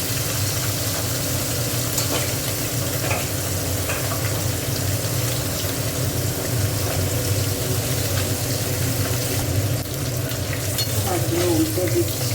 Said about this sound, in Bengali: মাছটা নিয়ে একটু ভেজে নেবো।